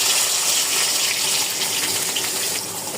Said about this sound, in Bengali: তেল গরম হয়ে এসেছে, এখন কেটে রাখা সকল উপকরণ এখানে ঢেলে দিচ্ছি।